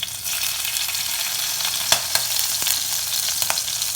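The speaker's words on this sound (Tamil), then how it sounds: "இப்போ எண்ணெய் சூடாக இருக்குது நம்ம எடுத்து வச்சுருக்கிற அந்த சீரகத்தில் கொஞ்சம் முதல்ல இதில் உள்ளே போட்டுக்கிறோம்" Cumin seeds and green chillies spluttering in hot oil in a pan for a Tamil keerai masiyal, a dense close sizzle with scattered sharp pops and crackles throughout.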